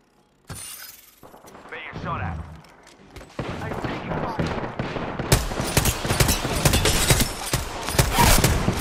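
Dense gunfire in the Apex Legends battle-royale game: rapid bursts of shots build into sustained, loud automatic fire with impact cracks. A player's voice is briefly heard beneath the shooting.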